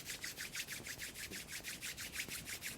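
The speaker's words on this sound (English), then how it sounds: "Rub the hands together." Two palms rub briskly together in a quick, even back-and-forth rhythm, faint and close, during a yoga practice in a quiet room.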